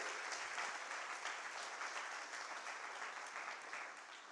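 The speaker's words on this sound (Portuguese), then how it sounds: "dá uma salva de palmas a Ele" A church congregation claps together in a sustained burst of applause that fills the room evenly, steady and moderately loud for several seconds.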